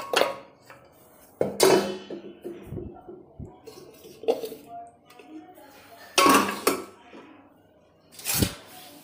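Kitchen utensils and pots being put away in a home kitchen, heard as several sharp clattering, clinking bursts spaced a few seconds apart, with quieter knocks and handling noise in between.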